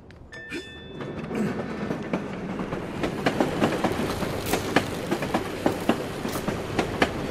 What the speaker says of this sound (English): I could catch a ride on the roof of that tram.